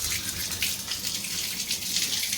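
Warm water pours steadily from a tap into a bathtub, a continuous hissing splash with no breaks and no voices.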